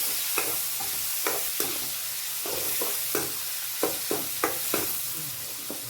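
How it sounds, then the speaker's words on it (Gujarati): A spoon stirs a Maggi masala tempering in a pan, giving scattered, clear scraping strokes over a low, steady sizzle heard up close with no talking. "પછી આપણે ચમચામાં પછી હલાવી લઈએ."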